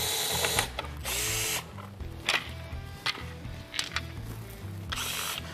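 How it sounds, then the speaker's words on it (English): Number 2 Phillips low torque screwdriver backing out screws from the side plates of a Lowrance Recon trolling motor: close mechanical ratcheting and clicking in bursts with handling clatter, no talk. "we're going to remove our side plates with our number 2 Phillips low torque screwdriver"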